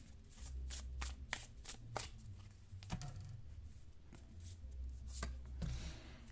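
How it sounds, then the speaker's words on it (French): Cards from a numerology oracle deck being shuffled and drawn: quick, soft riffling flicks and papery slides, close and quiet, with a low hum beneath and no talking. "je vais tirer une carte supplémentaire avec l'oracle de la numérologie"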